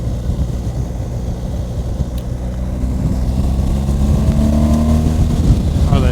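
Steady engine drone of a 2023 BMW 1250 GS motorcycle while riding, a continuous low rumble that gradually grows louder as revs rise, with wind noise mixed in throughout.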